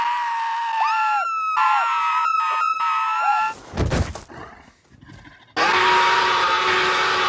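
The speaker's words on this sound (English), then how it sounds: "seeing this monkey's face while screaming like a human" A CGI gorilla in the film Dolittle lets out loud, strained, human-like screams in repeated bursts, broken by a short chaotic stretch before a final sustained shriek.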